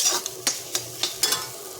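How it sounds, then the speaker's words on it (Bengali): Grated carrots frying in a pan for carrot halwa, a steady soft sizzle broken by four or five sharp scrapes of a spoon stirring at uneven intervals, close and moderately loud, with no voices. "গাজরটা ভাজা ভাজা হয়ে যাচ্ছে"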